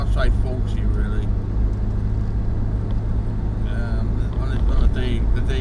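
A Ford Capri with a Type D gearbox cruises in fifth gear at around 35 to 40 mph, giving a steady low engine and road drone heard from inside the car while someone talks over it.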